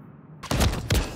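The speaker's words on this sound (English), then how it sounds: "if you can use your MCW, I want you to just shoot me in the chest one bullet at a time" An MCW rifle in Modern Warfare 3 fires two quick, close, punchy shots in succession after a moment of near silence.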